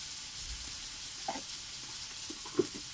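Potatoes and prawns with turmeric and salt sautéing in a pan, a soft steady sizzle with a couple of faint stirring clinks, heard close and alone.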